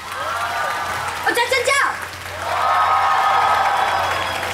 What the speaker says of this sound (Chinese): 我们先给他们一个最大的掌声